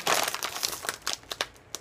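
A crinkly plastic chip bag crackles and rustles up close as it is opened, in quick, uneven bursts, briefly and at modest volume.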